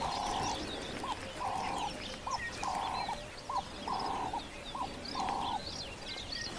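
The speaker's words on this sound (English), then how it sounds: "Ringneck dove calling there." Ring-necked dove calling on safari in the African bush: a steady, rhythmic series of repeated coo phrases at moderate distance, set against a soft chorus of other birds and background hiss.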